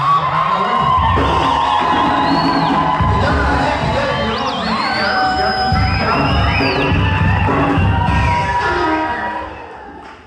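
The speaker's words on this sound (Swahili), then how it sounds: "Hebu vigelegele havitoshi jamani." Wedding guests at a celebration cheer loudly and ululate in high trilling calls, a dense, continuous crowd roar close by.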